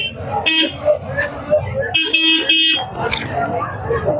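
Horns honk from a car approaching from behind in a busy Dadar market street in Mumbai, short bright toots rising over constant crowd chatter and nearby voices.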